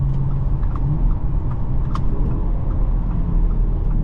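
A 2023 Audi A5 Sportback's four-cylinder engine drones steadily while driving, a loud, continuous low rumble with road noise filling the cabin and no breaks.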